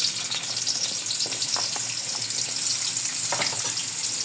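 Ginger sizzles steadily in a hot pot while cooking pork rib tinola, a dense continuous frying hiss with faint stirring clinks, close and fairly loud.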